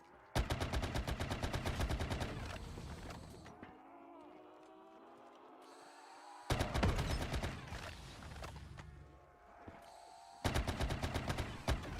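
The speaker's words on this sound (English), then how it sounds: "This gun is actually an insane gun." Bursts of rapid automatic gunfire from a weapon in Black Ops 3 custom Zombies crackle loudly in long sustained volleys, broken by quieter gaps of humming game ambience.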